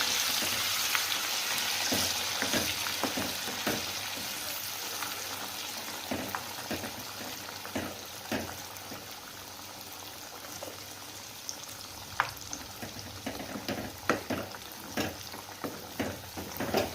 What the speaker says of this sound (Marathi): हे जो मसाला केला आता आपण त्याची पेस्ट आहे तेलात चांगली होऊ द्यायची.